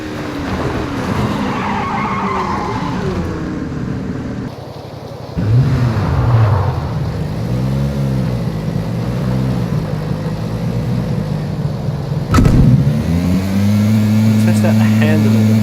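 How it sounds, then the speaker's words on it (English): A new motorbike and buggy in the PUBG video game rev and whine with tyres skidding and squealing on tarmac, engine pitch rising and falling repeatedly under someone talking throughout. "I quite like the sound of the new bike."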